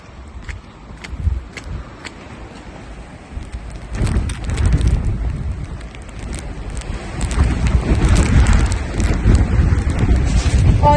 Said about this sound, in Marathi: मला माहित नाही तुम्हाला वाऱ्याचा आवाज येतोय का नाही, पण खूप जास्त हवा येते